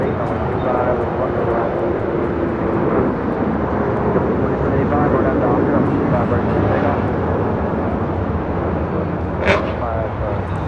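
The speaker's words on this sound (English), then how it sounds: "This is Alaska Airlines 1394 taking off to Liberia, 737-900ER" Alaska Airlines Boeing 737-900ER taking off at LAX, a loud sustained jet roar filling the whole stretch, steady and broad with a faint rumble, while someone talks over it.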